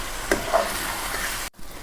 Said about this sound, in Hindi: और इनको मैं अच्छी तरह भूनूंगी।